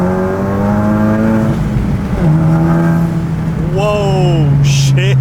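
Car accelerating hard on new tires, a loud close engine revving up through rising pitch sweeps with a brief dip between pulls, ending with a sharp high whine.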